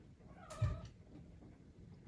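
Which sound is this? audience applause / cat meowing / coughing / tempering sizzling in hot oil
cat meowing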